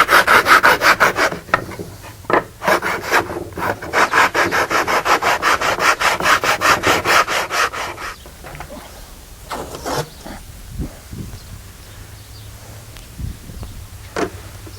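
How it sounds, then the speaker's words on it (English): Rough sandpaper rubs the corners of a wooden zither bridge support in steady, rhythmic back-and-forth strokes, close and fairly loud for about eight seconds, then thinning to scattered quieter scrapes and taps. "we're going to have to smooth all the corners out. I've got a rough sandpaper that does that real well"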